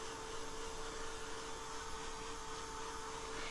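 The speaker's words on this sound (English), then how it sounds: "I don't have a way to easily mute the sound of the dryer" Clothes dryer running in a home studio, a steady broadband whir with a faint constant hum, unbroken and alone throughout.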